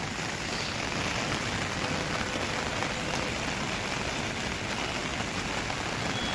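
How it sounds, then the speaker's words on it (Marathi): Steady rain hisses on surfaces near a hillside temple at Mumbra, a dense, even wash of drops with no pauses and no voices. "आता पाऊस चालू झालो हा बारीक बारीक बारीक बारीक आणि आता वाढत चाललो हा"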